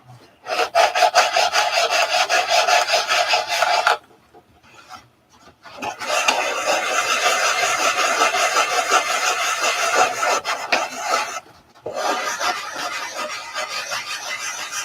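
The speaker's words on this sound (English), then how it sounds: "When you're using 80 grit, you have to stop before you think you need to and switch to something like 180 or 220." Wood being sanded by hand with coarse 80 grit sandpaper, a loud, steady scratchy rasping in long strokes, with a pause near the start and a brief break later, alone without talk.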